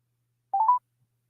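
A quick run of telephone keypad tones dialing to add a caller to a call, three or four short rising beeps in close succession, clean and isolated against silence.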